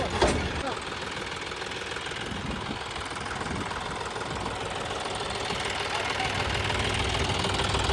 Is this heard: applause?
no